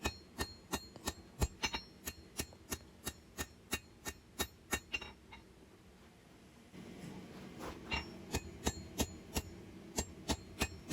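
A hammer strikes a hot steel bar on an anvil while a large skinner knife is hand-forged, ringing in a fast, regular series of sharp clangs, pausing briefly before another quick run of blows resumes.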